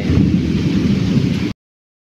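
Heavy rain pours down loudly during a thunderstorm, with a deep continuous roar and rumble of thunder that cuts off abruptly into silence.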